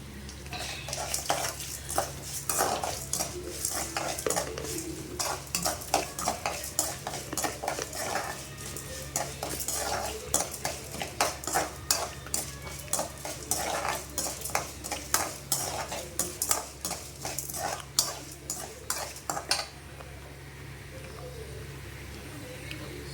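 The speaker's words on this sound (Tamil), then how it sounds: "முந்திரி பருப்பு வறுபட்டுருச்சு" Cashew nuts roasting in a pan with ginger, stirred with a metal spoon in a steady run of scraping clinks up close, then the stirring stops and a low steady hum remains.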